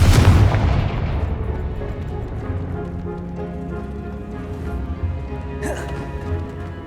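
A Confringo blast spell exploding in Hogwarts Legacy, a single heavy boom at the start that decays into a rumbling tail, with a brief swooshing effect near the end and game music underneath.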